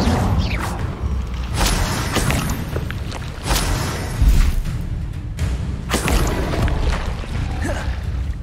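Repeated Incendio fire spells cast in Hogwarts Legacy, a series of whooshing bursts and thumping impacts spread across the stretch, loud and close over steady game ambience.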